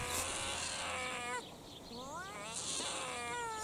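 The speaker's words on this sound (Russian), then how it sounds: "Там два соседских кота встретились между собой." Two neighbourhood cats fight outdoors, trading long wavering yowls and caterwauls that rise and fall, one drawn-out howl answered by another, fairly loud against a steady background hum.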